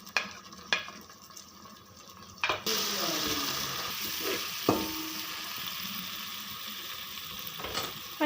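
Chopped tomatoes with ginger garlic paste hit a pan of fried onions for dhaba-style daal mash, a loud sizzle bursting in after a few seconds, with clinks and scraping of a spoon, running water and faint voices.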